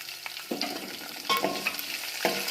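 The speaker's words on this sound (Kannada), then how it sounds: "ಅದನ್ನು ಸ್ವಲ್ಪ ಚೆನ್ನಾಗಿ ಫ್ರೈ ಮಾಡ್ಕೋಣ" Curry leaves and slit green chillies frying in hot oil, a steady close sizzle broken by a few louder bursts as they are stirred in the pan.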